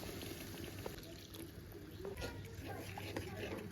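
A small splash of water pours into a pan of fish curry masala, a short soft liquid trickle and sputter close by over a low steady hum, with a voice speaking alongside.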